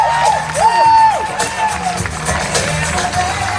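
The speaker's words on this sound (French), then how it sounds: "il y avait également Thomas, Julien, applaudissements s'il vous plaît." An audience at an outdoor pow-wow show claps and cheers in a busy burst under a voice, with whoops and crowd noise rising and falling.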